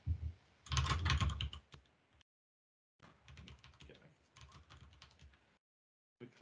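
Bursts of typing on a computer keyboard, a fast flurry of clicks followed by a pause and then a longer run of steady keystrokes, close and clear with no talking.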